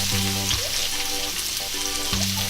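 Garlic and ginger frying in a pan for adobong salmon, a steady, fairly loud sizzle with a constant low tonal hum running behind it and no speech.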